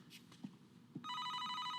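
A telephone rings in a scene from a TV crime drama, a steady electronic ringing that starts about halfway through and continues to the end, following a couple of soft thumps, with no talking.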